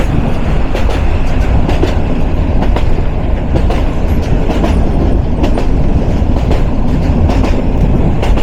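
A local commuter train to Dewanganj runs on the Narayanganj–Bahadurabad Ghat line, a loud continuous rumble from inside the carriage with steady clickety-clack of wheels over rail joints and occasional faint squeals.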